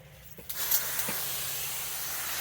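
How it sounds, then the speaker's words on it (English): A mister nozzle sprays water over okra seed trays with a steady soft hiss that swells after a brief start and keeps going, close and alone. "we're going to get out our mister nozzle, which is going to do the job perfectly"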